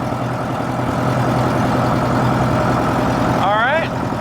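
A Lancair aircraft's piston engine holds a steady, loud drone at run-up RPM while being leaned slightly, with people talking over the constant engine noise.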